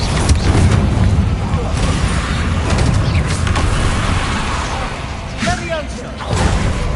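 Spell explosions cast in Hogwarts Legacy burst out as dull booms and thumps with swishing whooshes, repeating over several seconds in a dense, busy mix while a voice shouts over them.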